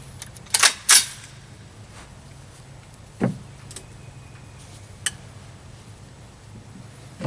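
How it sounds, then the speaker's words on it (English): Three 150-grain soft-tip rifle rounds being loaded, a few sharp metallic clicks and clacks close by, the first pair loudest, then scattered fainter snaps against quiet background hiss. "We're going to load up 3 rounds."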